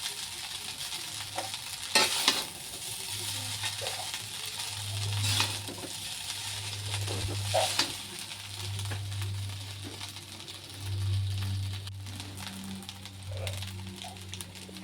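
Fried rice is stirred and scraped in a pan over a constant sizzle, with repeated metallic scrapes and taps at an uneven pace close up and a low hum underneath.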